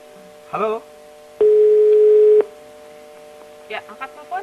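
A single long electronic phone tone sounds for about a second, steady and clear, with brief bits of voice before and after it.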